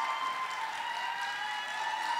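Applause from a musical festival audience, a steady wash of clapping held at an even level, heard from a distance and without a break.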